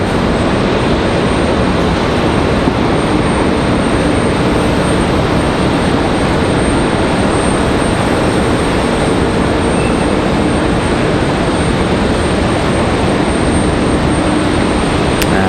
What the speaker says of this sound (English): now see, that's how you move an A220